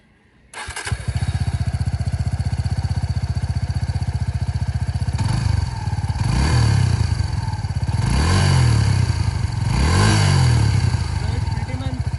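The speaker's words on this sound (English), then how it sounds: "Let's hear the exhaust note." Suzuki V-Strom SX 250 motorcycle, a single-cylinder shared with the Gixxer, starts up and settles into a loud close idle, then gets three rising revs of the throttle, each swelling and falling back to the steady thumping exhaust.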